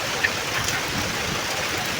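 Heavy rain pouring outdoors, a dense, steady patter and rush of falling water filling the whole moment with no pause.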